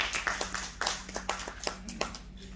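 Scattered hand claps from a small audience at a poetry honour ceremony in Farrukhabad, a few sharp, uneven claps close by over a low background hum rather than full applause.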